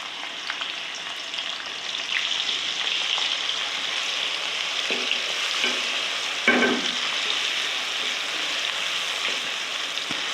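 Whole spices such as cardamom and cinnamon roast in a hot pan for a desi aloo matar qeema, giving a steady close sizzle and crackle with a few stirring scrapes and no talking.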